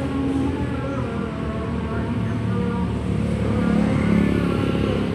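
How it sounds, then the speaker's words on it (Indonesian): A Kawasaki ZX25R four-cylinder motorcycle with a Leovince full exhaust system runs with a dense, loud, continuous rumbling drone that swells slightly toward the end. "Kita putari dulu motornya."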